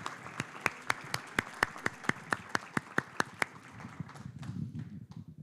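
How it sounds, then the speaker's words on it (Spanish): Quiet, evenly spaced claps from an audience at an international biofuel conference panel, struck in a steady rhythm for several seconds before giving way to low room rumble. "Un aplauso, un fuerte aplauso para Alex"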